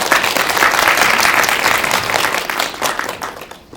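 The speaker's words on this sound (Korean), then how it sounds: "일단 감상평을 들으셨는데 박수 한번 부탁드리겠습니다" A cinema audience at a film screening talk at CGV Yongsan I'Park Mall applauds warmly, many hands clapping densely before the sound tapers off and fades to near silence.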